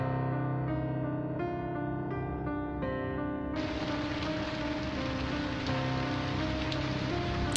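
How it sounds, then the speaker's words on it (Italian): Steady rain falls as a dense hiss that swells in partway through, continuing loud and unbroken under fading tonal music with no voices. "Pioveva."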